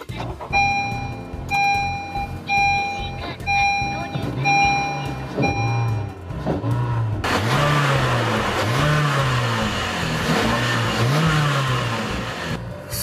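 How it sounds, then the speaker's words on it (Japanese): A Honda Fit 3 RS with a six-speed manual gearbox: warning chimes ring first, then the engine fires up and is blipped through a series of sharp revs, recorded close with people talking over it. "ではね、ちょっとエンジンかけさせてもらいます。"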